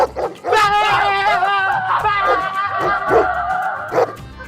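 Dogs bark and howl in a drawn-out, wavering chorus of pitched yelps and whines, loud and close, with a few sharper barks near the start and end in a Pakistani comedy scene.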